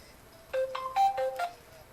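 Phone message notification ringtone, a short run of bright electronic chime tones, clear and close, with quiet background.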